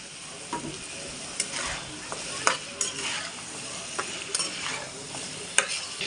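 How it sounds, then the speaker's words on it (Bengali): Flat beans and potatoes go into a hot oiled wok, setting off a steady sizzle broken by scattered clinks and scraping knocks as they land and shift in the pan. "এই যে সিম আলু এখন ঢেলে দেওয়া হবে।"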